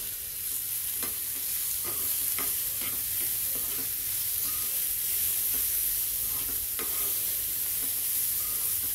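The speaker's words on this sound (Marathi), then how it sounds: "थोडीशी हळद घालू, चवीनुसार मीठ घालू, परतून घेऊ।" Paneer bhurji masala with turmeric and salt sautéing in a pan, a faint, steady sizzle with scattered soft clicks and scrapes from stirring.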